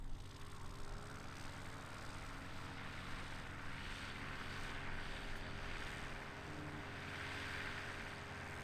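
A race plane in the Sport class sits on the ground at an air race with a steady, broad engine drone and wind buffeting the microphone. The engine noise stays constant throughout, with no clear rise in throttle.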